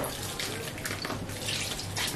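Water sprays and splashes into a crocodile skink enclosure in a steady hissing rush, close by, with brief surges in intensity.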